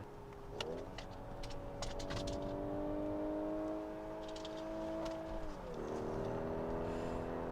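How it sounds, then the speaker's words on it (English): A 2019 Audi A5 Cabriolet Premium Plus engine revs hard through the gears, its rising tone dropping at a shift and climbing again, heard from inside the car with wind and faint chirps over it. "I didn't mean to rev it out that far"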